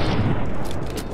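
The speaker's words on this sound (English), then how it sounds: "Whoa, this is like a huge explosion." Loud, dense booming blast from the video game Fallout: New Vegas, a rolling burst of explosive roar lasting about a second with no talk over it.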